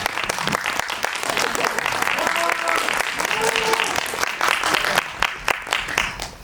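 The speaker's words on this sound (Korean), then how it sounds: "여러분들도 박수로 한번 배우님께" An audience at a film screening and director-and-cast talk applauds the actress, a steady wave of clapping held for several seconds, with a faint voice briefly underneath.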